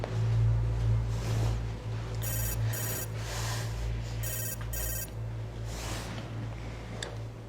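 A mobile phone rings with an incoming call, its electronic ringtone pulsing in short bursts over a steady low hum, close and fairly loud with no one speaking.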